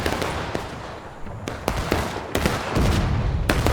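Artillery cannon fire in the War of Rights Civil War game: a run of sharp, loud booming shots at irregular intervals over a steady battlefield din, with no talking.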